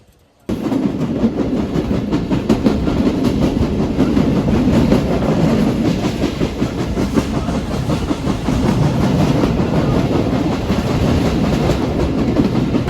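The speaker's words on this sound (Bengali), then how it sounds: "এখান থেকে ট্রেন ছেড়ে দিছে" Local train in Bangladesh pulling out of Lalitnagar station on the Rohanpur to Rajshahi line, a loud steady rumble of wheels and carriages with clickety-clack running continuously close by, no talk.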